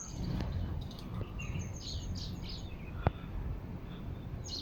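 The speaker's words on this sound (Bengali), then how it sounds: "এই দেশে চড়ুই পাখি।" Sparrows chirp in short, scattered bursts somewhere in Mauritius, fairly faint against a steady outdoor rumble, with one sharp click partway through.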